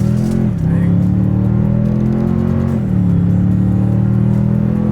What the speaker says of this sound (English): let's see how quickly we can get our new 2026 Toyota Tundra here up to speed